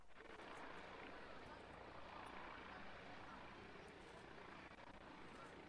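Helicopter flying over Manchester Airport, a steady broadband rotor and engine drone holding at an even level throughout, somewhat distant and faint.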